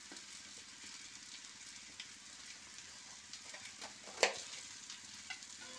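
Spices for potato curry (aloo dum), with cumin-coriander powder, chili powder and homemade garam masala, stirred in a pan with a splash of water, giving a steady soft sizzle and faint scraping, and a brief louder clink near the end.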